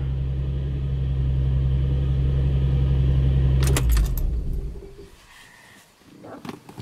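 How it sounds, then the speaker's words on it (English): A 2003 Infiniti G35 idles with a steady low engine drone, then is switched off near the midpoint, the rumble dying away. A brief clatter of keys follows, and then near silence with faint small handling noises. "So I'm going to turn the car off."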